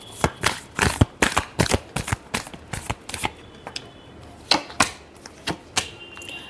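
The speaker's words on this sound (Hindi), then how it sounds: "Last shuffle." Tarot cards are shuffled up close in quick, crisp riffling bursts, a string of sharp papery snaps coming in irregular clusters over several seconds, with no talking.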